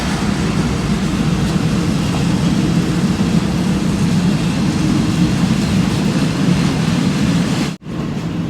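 A steady, loud low rumble of a passing train at a station runs throughout, continuous and close, with a brief drop near the end.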